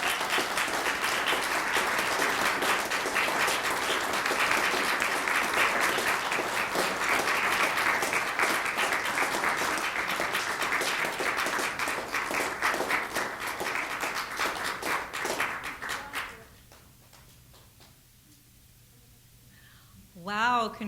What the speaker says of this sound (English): One more round of applause for all our award winners.